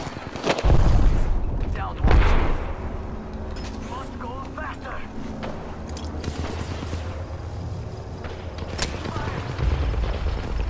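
Gunfire in the Apex Legends video game: two heavy booming shots stand out early, followed by a busy, continuous mix of game effects and scattered bursts, with voices talking throughout.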